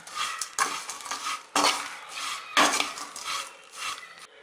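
Prawn heads frying in hot oil, stirred with a utensil: a soft sizzle punctuated by several loud scraping sweeps against the pan at irregular intervals.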